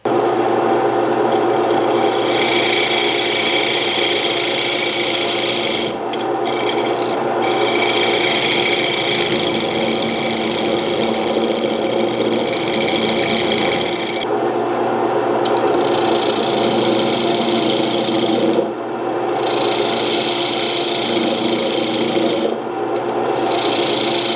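A wood lathe spins a segmented bowl while a cutting tool carves a mortise recess, giving a continuous loud rasping hum with brief drop-outs as the tool lifts off the wood.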